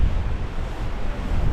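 Strong wind gusts over 30 knots buffet a solo sailboat in Force 8 conditions on the Sound of Jura, with waves washing against the hull in a steady, loud roar.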